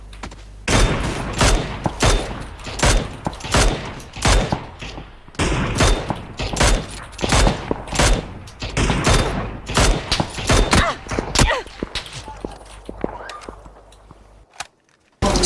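Gunfire in the battle royale game PUBG, with many sharp shots in rapid bursts and volleys spread across the whole stretch, loud and close, sometimes in quick strings like automatic fire, fading near the end.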